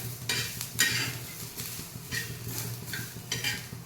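Ginger, garlic and spices roast in a pan for a fish curry, a soft sizzle under repeated scraping and stirring strokes of a utensil against the pan at an uneven rhythm.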